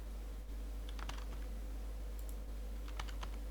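A password being typed on a computer keyboard during a Linux Ubuntu virtual machine setup: two short bursts of faint keystroke clicks over a steady low hum, with a pause between them.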